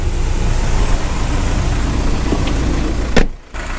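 A VW campervan engine idles with a steady low rumble, close by, and a brief thump near the end.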